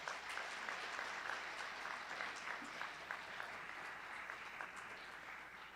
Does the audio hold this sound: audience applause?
yes